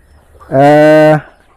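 A dairy cow recovering from foot-and-mouth disease gives a single loud, close moo lasting under a second, with no talking over it.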